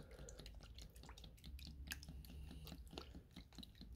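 Disinfectant, Dettol or an off-brand equivalent, is poured into a container holding plastic model train bodies for paint stripping, giving a quiet, continuous wet splashing with small drips and squishy sloshing close by.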